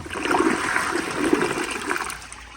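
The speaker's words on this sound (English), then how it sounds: "I'm going to go ahead and flush the toilet to get the bowl as wet as possible so that all this dirt will stick." An American Standard Townsend Vormax toilet (2018 model) flushes in a loud, close rush of water that swirls steadily for a few seconds and begins to ease toward the end.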